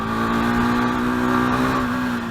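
A car engine revs hard as the throttle opens, a loud close sustained drone with the pitch climbing slightly and holding steady.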